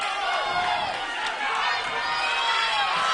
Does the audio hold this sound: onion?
no